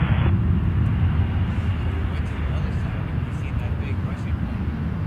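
Antonov cargo aircraft at Toronto Pearson Airport, a steady loud low engine roar filling the whole stretch with wind buffeting the microphone, no clear break or fade.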